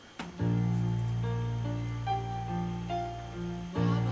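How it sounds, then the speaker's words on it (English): A sustained, layered piano passage with a low held tone underneath and notes shifting over it, loud and steady, cut off and restarted near the end. "So I'm going to try to look for that piano part in the beginning."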